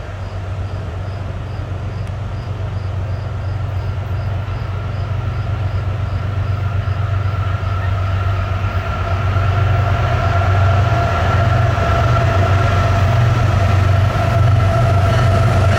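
A westbound Norfolk Southern intermodal freight train approaches, a loud, steady rumble of engine and rolling wagons that swells and grows heavier toward the end, with a faint high whine and no talk.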